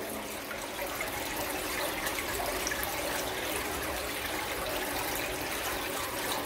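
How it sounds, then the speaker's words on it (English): Water runs continuously through an old tunnel built for miners, a steady close trickling and rushing wash at moderate level with no voices. "we've constantly got water flowing through this tunnel"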